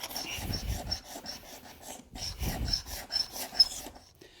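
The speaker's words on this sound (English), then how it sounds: "as I'm getting up close to the edge of the board here, I've switched to a smaller scraper" A small hand scraper with a shaped blade drawn repeatedly across a wooden floor board near its edge, giving a series of rhythmic rasping strokes, close and moderately loud, with soft breathing between.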